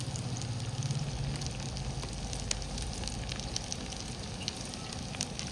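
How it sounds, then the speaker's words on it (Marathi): Carrot pieces and large cauliflower florets sauté in a pan for masala rice, giving a steady close sizzle and crackle with a few faint scrapes, and no voices. "आता हे चांगलं परतून घ्यायचं मस्त."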